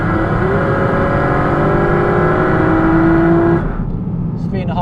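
Porsche 718 GT4 engine drone and mechanical cabin noise at steady cruise, a sustained rising tone that holds for several seconds before the engine note drops away near the end.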